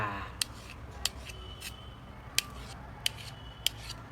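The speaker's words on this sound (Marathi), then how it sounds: "आता या अंड्याचे फोडी करणं चालू आहे." Knife cutting boiled eggs into pieces for egg bhurji, five sharp separate clicks against a board spaced about a second apart, close and clear over a low steady background hiss.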